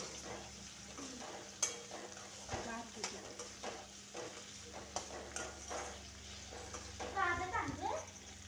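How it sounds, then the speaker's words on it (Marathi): A medium tomato, finely chopped, sautés in a pan with a steady soft sizzle, broken by repeated scraping stirs of a spoon, while a voice murmurs faintly in the background. "एक मीडियम साईजचा टोमॅटो बारीक चॉप करून घेऊया आणि अगदी मऊ होईपर्यंत याला परतून घेऊया"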